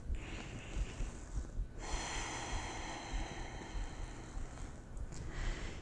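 Slow, deep breathing during a yin yoga pose, with a long, soft airy inhale and exhale heard faint and close, with no talking.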